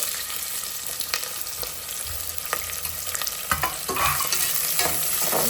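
Onions and green chillies sizzle steadily in hot oil for a Telangana-style mutton curry, with repeated stirring scrapes and clinks against the pan and a denser burst of frying toward the end; no talking.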